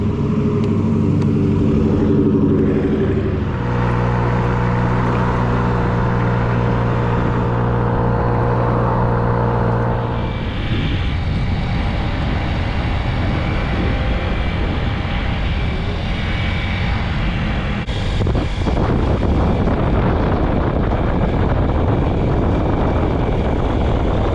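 A Honda Ruckus scooter rides along at steady speed, its small engine droning loudly with shifting pitch and strong wind and road rumble throughout, with no talking.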